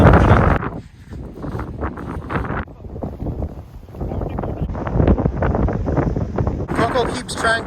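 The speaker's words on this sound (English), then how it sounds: "it's really windy, but it's really pretty." Strong coastal wind on Martha's Vineyard buffets the microphone with steady, loud rumbling gusts and roar throughout, with a brief lull near the start and a rise again at the end.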